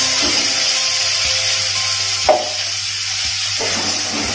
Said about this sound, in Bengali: এবার টমেটোটা সেদ্ধ হওয়া অবধি আমি ভালো করে ভাজবো।